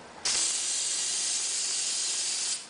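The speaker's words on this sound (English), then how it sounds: "This is after I've sprayed the axle." Aerosol spray hisses steadily onto a race car axle, a close, even burst lasting a couple of seconds before cutting off.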